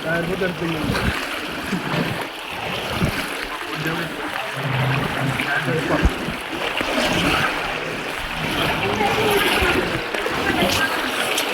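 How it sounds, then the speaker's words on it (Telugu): Flood water rushes through a street in Vijayawada, Andhra Pradesh, a continuous churning flow with splashes, while people talk nearby. "ఇప్పుడు అటు కట్ట వాటర్ ఇటు వస్తుంది, ఇటు వాటర్ ఇటు వెళ్తుంది."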